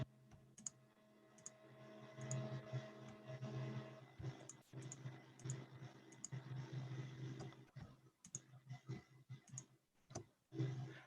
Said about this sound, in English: I held down Control and I just left clicked on everything